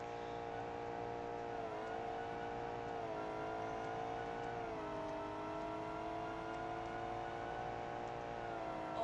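Car engine at high speed in a BeamNG multiplayer drag race, a sustained loud whining drone of layered engine tones that rise and dip slightly with gear changes, steady with no talk.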